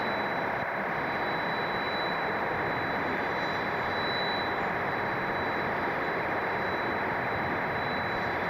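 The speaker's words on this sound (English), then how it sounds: "Alaska Airlines 737-900 heading over to Portland." Alaska Airlines Boeing 737-900 jet passing at Atlanta Hartsfield-Jackson airport, a steady broadband engine roar with a faint high whine, continuous and moderately distant throughout.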